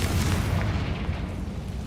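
A Confringo spell explosion in a Harry Potter video game erupts as a dense, roaring blast with heavy low rumble, sustained loud for about two seconds without a clear decay.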